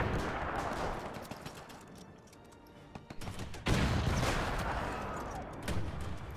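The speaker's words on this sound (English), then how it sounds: "Bastards firing back." Enemy rifle fire crackles in the WW1 game Between Empires, a dense run of distant and mid-range shots rattling in bursts, thinning briefly before a sharper volley returns.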